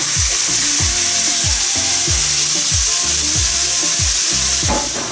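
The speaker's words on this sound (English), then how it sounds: "We're then going to put in our mince." Muntjac mince fries loudly in about two tablespoons of vegetable oil, a dense, constant close-up sizzle punctuated by regular scraping stirs roughly every half second, with no talking.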